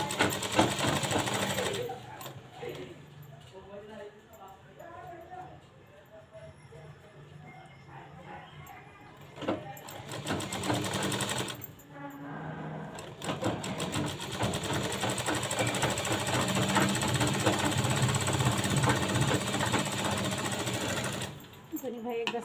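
A sewing machine runs in long steady bursts while stitching a sleeve lining at a half-inch seam margin, with a brief pause between runs, loud and close.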